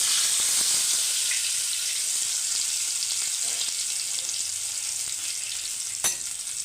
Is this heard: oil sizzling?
yes